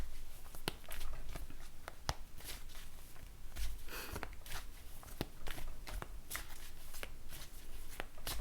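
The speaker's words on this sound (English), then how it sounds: "I've just shuffled the cards quite a lot" Tarot cards are shuffled close up, giving a soft, continuous papery riffling and sliding with regular sharp taps as the deck is cut and squared, quiet and without talk.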